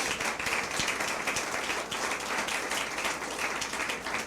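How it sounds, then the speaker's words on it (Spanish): A church congregation claps during a Sunday sermon, a moderately distant, even wash of applause holding steady for several seconds with no talk. "Denle un aplauso al Señor Jesús."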